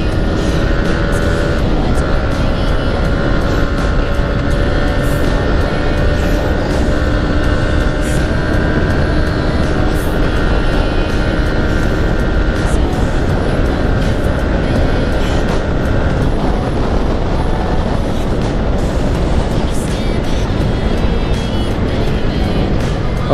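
A Yamaha MT-15 motorcycle on a test ride gives a loud, steady engine and wind roar that runs unbroken from start to finish, with no talking over it.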